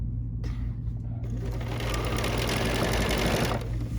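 A sewing machine with a number 10D foot topstitches the binding along a quilt's folded edge, revving up after a brief pause into a fast, steady, close whirring hum that cuts off shortly before the end.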